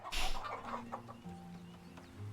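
Chickens clucking in the medieval settlement-building game Farthest Frontier, a burst of faint game-audio clucks at the start, then thinner cluck calls over a low ambient hum.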